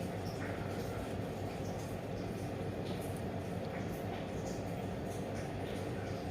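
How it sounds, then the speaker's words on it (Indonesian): A CC 203 diesel locomotive in a cab simulation starts up and settles into a steady, low mechanical rumble, with faint voices in the background. "Ketika untuk menyalakan lokomotif itu diarahkan ke start."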